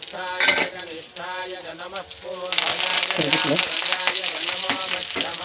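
Mustard seeds, split lentils and curry leaves sizzle in hot oil as a tempering for a ridge gourd stir-fry. A crackling sizzle grows louder and denser about halfway through, with tonal background music playing throughout.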